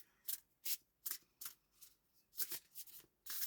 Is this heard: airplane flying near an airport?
no